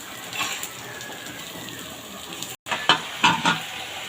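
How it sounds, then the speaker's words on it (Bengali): Potatoes with turmeric and salt fry in a pan, giving a soft continuous sizzle broken by a brief cut, then a few sharp scraping and clinking stirs near the end. "আলুর মধ্যে অল্প পরিমাণ হলুদ গুঁড়ো দিলাম, অল্প পরিমাণ লবণ ছিটা। এখন এগুলো ভেজে নেব ভালো করে।"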